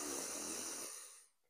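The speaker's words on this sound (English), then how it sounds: "Take a deep breath in." A deep breath in during a vinyasa yoga flow, one long, close, airy inhale that holds steady, then tapers off into silence.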